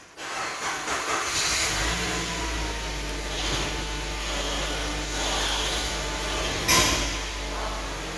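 A Suzuki Grand Vitara 2.0 engine with a new top timing chain and replaced pistons, starting up and running with a steady close hum and hiss, a brief louder burst near the end.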